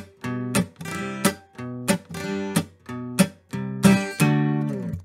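Acoustic guitar in DADGAD tuning strummed in a steady drag-chuck-boom-chuck pattern, alternating bass-note plucks with sharp percussive chord chucks, repeating in an even, bouncy rhythm.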